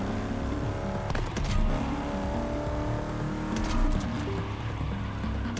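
A racing car's engine revs and roars in The Crew Motorfest, with grandma's car on the track, close and steady with rising and falling pitch and a few sharp clatters, no talking.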